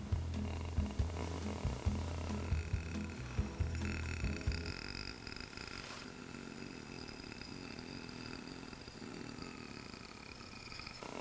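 A person imitates a cat's purr with a rhythmic, rumbling throaty trill in pulses for a few seconds, followed by quieter background noise.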